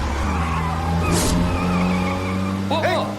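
Car driving with engine noise and tyre skids or squeals as it brakes, heard under excited voices talking over the scene, loud and close throughout the short stretch.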